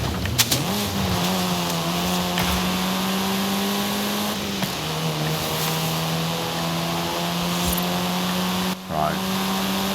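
A car's engine in Forza Horizon 5 holds a steady, droning hum with smooth shifts in pitch as it drives, while someone talks over it.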